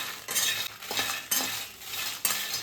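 Green and red chillies fry in a pan while a utensil stirs them with quick scraping strokes over a soft, steady sizzle. The sound is close and rhythmic, with no talking.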